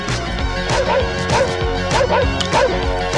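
A dog barks loudly in a comedy film scene during a family road trip. About five sharp barks come in quick bursts, close and prominent over a busy background.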